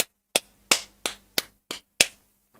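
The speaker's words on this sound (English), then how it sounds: "Sorry, I'm clapping in the mic." Seven sharp, loud hand claps made right at the microphone, evenly spaced about a third of a second apart, each with a short ringing tail.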